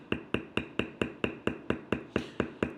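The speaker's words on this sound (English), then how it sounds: "the first thing I'm going to do is take my small beveler and do the really tight turns" A small leather beveler is struck in an even rhythm while tooling tight scroll turns on a canteen purse, about a dozen sharp, close taps evenly spaced, each ringing briefly, with no voices.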